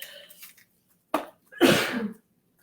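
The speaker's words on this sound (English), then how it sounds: "I'm going to sneeze, excuse me." A single close sneeze, a sharp intake followed by a forceful burst, after some quiet faint sounds.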